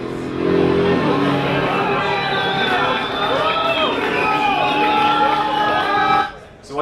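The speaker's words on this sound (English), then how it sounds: "So what you can hear there is only the gas-powered car" A 1,400 horsepower gas-powered V8 race car roars loudly and steadily for about six seconds, its engine pitch sweeping up and down as it races, over crowd noise and voices, then cuts off abruptly near the end.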